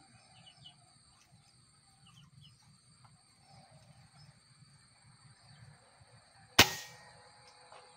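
A single sharp air rifle shot fired at a 100-meter target cracks out loud and close near the end, ringing off briefly, over a faint outdoor background of birds and insects.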